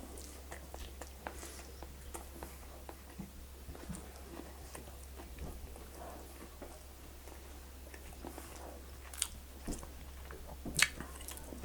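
Someone chews a pork and stuffing sandwich with red onion gravy, close and quiet, giving soft moist bites and squishes with a few sharper crunches near the end, over a low steady hum and with no talk.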